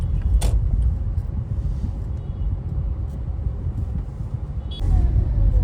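A road traffic rumble runs steadily close by, a low engine drone with passing vehicle noise and a couple of sharp knocks, loud and without speech.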